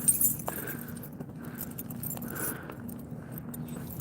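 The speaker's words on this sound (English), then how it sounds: "Gotta find my keys now." Keys jangle in short metallic bursts while someone searches for them outdoors on a solo snowy hike to a river, close and moderately loud over a low steady background rumble.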